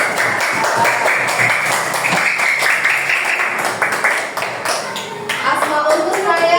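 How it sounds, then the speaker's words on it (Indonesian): A group claps together during a classroom coaching session, a dense patter of hands lasting throughout, with a voice and some shuffling underneath. "Tepuk tangan untuk kita semua."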